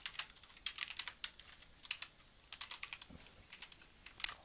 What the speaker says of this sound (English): I'm just going to type once, type in maximum